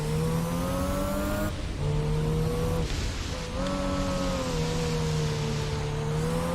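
Car pulling away on a wet track in the video game Gran Turismo 4: loud engine revving and climbing through the gears, with a brief drop between shifts, then steady high revs, no talking.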